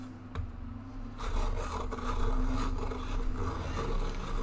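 A Prismacolor Premier colored pencil is turned in a sharpener, a close, fairly quiet rhythmic scraping and grinding of wood and pigment that continues for several seconds.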